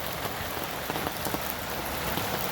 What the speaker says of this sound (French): Il mouille.